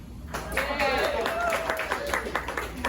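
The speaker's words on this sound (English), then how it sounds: "Oh, you want to clap for that too?" A rally crowd claps and cheers together in a steady, dense burst of applause that lasts throughout, with a voice briefly rising over the clapping.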